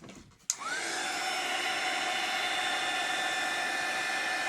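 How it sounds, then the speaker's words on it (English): A heat gun drying ink on a journal page clicks on, then blows with a steady loud whooshing hum close by that continues unbroken to the end. "it'll dry differently than if you let it, if you use the heat gun"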